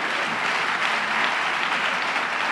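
A church congregation applauds to acclaim the Lord, dense steady clapping from many hands filling the room evenly and continuously, with no talk over it.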